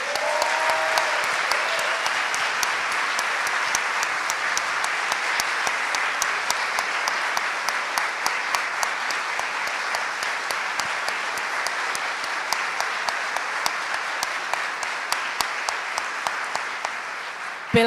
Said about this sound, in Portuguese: quero aqui pedir uma salva de palmas para Marielle Franco